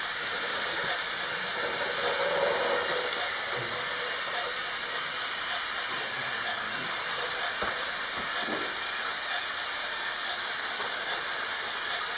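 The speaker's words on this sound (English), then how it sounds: "Oh, that's the train's whistle as well." A model train's steady hissing, steamy whistle runs throughout, with faint clatter and small knocks underneath.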